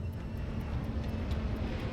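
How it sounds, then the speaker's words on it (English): A steady airplane engine drones overhead, a broad continuous roar at moderate loudness with faint periodic ticks, no voices. "The sound at first was just a normal airplane flying above."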